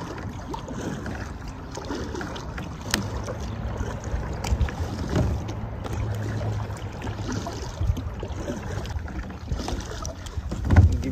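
A small boat pushes through grass on open water, giving a continuous rustling, swishing wash with a low motor hum and wind buffeting the microphone, with no voices.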